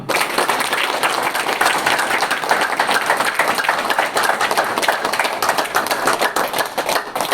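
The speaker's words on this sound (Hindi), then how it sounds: "तालियां।" Continuous dense clapping from a seated audience fills the whole stretch, loud and steady with no voices on top.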